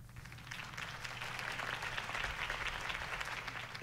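In a Batman video game, a crowd applauds after Harvey Dent's campaign speech, a continuous, moderately distant patter of many hands over a low hum, with no voices.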